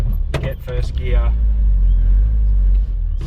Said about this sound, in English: So it's still idling, and you can just feather that throttle